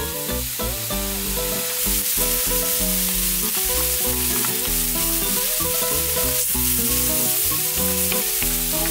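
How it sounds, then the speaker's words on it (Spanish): Garlic fries in a pan for tapao, a steady, close sizzle of hot oil running continuously, overlaid by background music with no speech. "Ahora voy a agregarle el ajo."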